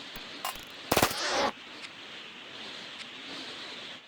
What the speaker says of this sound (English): Mega Sloth versus Assault Rifle. Who wins? I think it's the Assault Rifle.